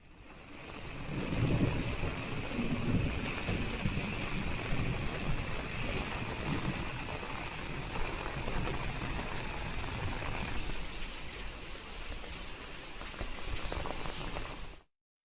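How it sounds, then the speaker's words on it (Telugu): Heavy rain falls across Hyderabad streets, a steady dense roar of rainfall and hiss lasting throughout with no speech, fairly loud and unbroken until it cuts off at the end. "హైదరాబాద్లో పలుచోట్ల భారీ వర్షం కురుస్తోంది."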